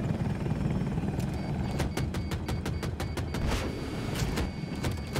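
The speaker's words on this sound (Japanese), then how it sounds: "ちょっとすげえ旋回するな、あのヘリ。" An enemy helicopter in Battlefield 2042 turns sharply overhead with a steady rotor rumble, while a rapid series of sharp gunfire bursts crackles over it in the game's battle noise.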